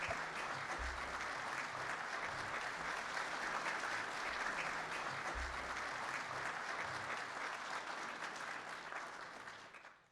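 A large crowd applauds police academy graduates at a municipal police academy graduation ceremony, dense continuous clapping heard alone for about ten seconds before fading out at the end.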